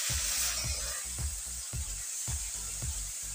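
A spice paste of garlic, ginger, chili and cumin sizzles as it is stirred into chicken in a pan, a close hiss with regular, rhythmic thuds from the stirring strokes.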